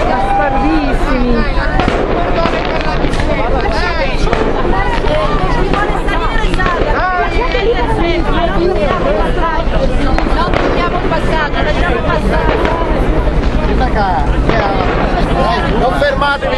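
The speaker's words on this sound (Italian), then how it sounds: "Sono fuochi d'artificio, bastardissimi." Fireworks go off in a street during a riot, a dense, continuous barrage of loud crackling bangs and pops with wind buffeting the microphone and people shouting throughout.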